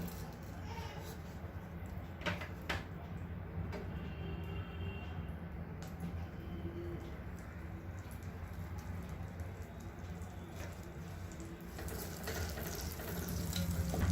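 Butter melts in a frying pan at a street snack stall making masala pav for a crowd, giving a steady, close sizzle and hiss throughout with a faint voice in the background.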